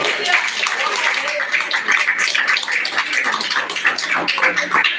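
Worshippers in a church clap in praise, a loud, crowded patter of hands mixed with voices calling out, continuous throughout.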